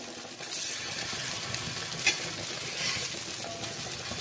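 Plantain slices frying on a thick dosa griddle give a steady, close hiss of oil sizzling, with a faint tap from a utensil partway through.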